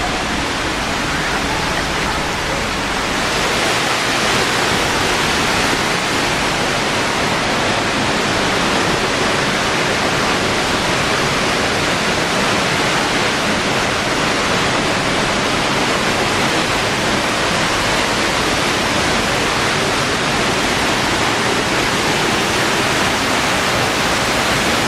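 Elephant Falls in Dalat, Vietnam roars as a constant loud broadband rush of falling water, heard up close and unbroken for the whole stretch, with no voices.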